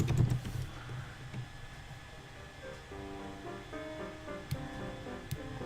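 Keyboard keys clatter in quick bursts near at hand, with soft piano music playing underneath.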